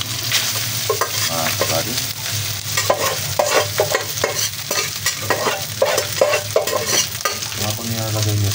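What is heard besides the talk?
leftover rice being stir-fried in a pan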